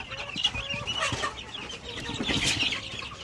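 Small flock of RIR x White Leghorn cross chickens on a farm, clucking in a steady, busy run of overlapping calls at moderate distance with no talk.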